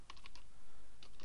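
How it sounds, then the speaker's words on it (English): Keys clatter on a computer keyboard while a plugin name is typed into a search box, a quick run of four clicks, a pause, then two more, close and light. "so I'll type here"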